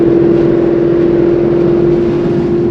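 A Mustang GT S550 with catless headers, running on E85, drones loud and steady from its exhaust in a sustained engine note heard from inside, with no speech.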